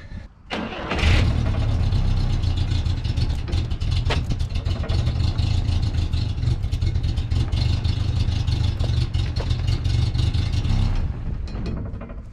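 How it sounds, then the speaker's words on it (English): A Wheel Checker Deluxe spins steel truck wheels, giving a steady, loud mechanical whir that starts abruptly and runs slightly rough for about eleven seconds before stopping. "Wheel Checker Deluxe is running a little rough."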